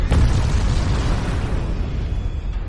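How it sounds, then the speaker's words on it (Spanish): Ship's hatch covers bursting underwater as a large sinking vessel is overwhelmed by the sea: a loud, deep explosion-like boom with a sharp onset, then a dense rumbling roar that carries on for a few seconds with no voices. "Fue parecido a la explosión de una bomba submarina."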